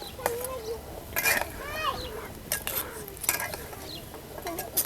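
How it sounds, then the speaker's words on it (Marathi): Spoon scraping and clinking in a pan while amla is stirred into sugar syrup, intermittent metallic stirring scrapes under occasional talking. "आता फिरवून घ्यायचं एक जीव करायच्याला आवळ्याचा आणि त्या पाकाचा"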